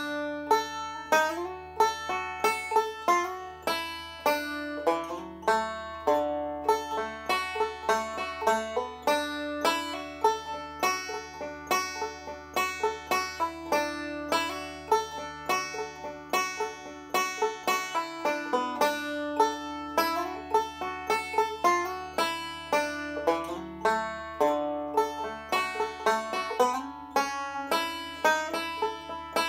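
A banjo picks through the A part of the tune Polly Ann's Hammer, with bright plucked notes in a quick, even rolling rhythm over half a minute.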